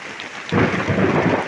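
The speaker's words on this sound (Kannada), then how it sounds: "ಏನು ಸಿಡ್ಲು ಗುರು ಇದು ಮೂರನೇ ಸಿಡ್ಲು" Thunder during a village rainstorm: a sudden close rumble breaks in and rolls on over the steady hiss of falling rain, with no voices.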